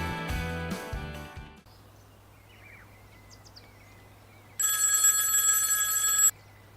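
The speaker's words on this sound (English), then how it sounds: "I can't believe my phone works out here." A mobile phone out on a river rings in one long, bright electronic trill after a quiet pause, standing alone against a low steady hum that follows a short stretch of music.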